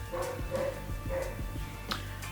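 A neighbor's dog barks repeatedly in short rhythmic bursts, moderately distant and muffled, with a few whimpering yips among the barks.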